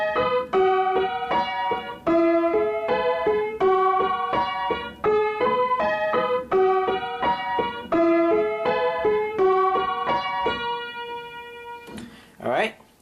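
A piano plays a song's riff at a faster tempo, the quick note pattern repeating several times before a short held ending and a brief rustling noise.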